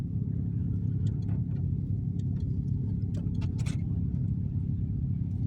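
A steady low rumble of a Hyundai Getz engine driving along, constant road and motor noise throughout with faint higher clicks and rattles.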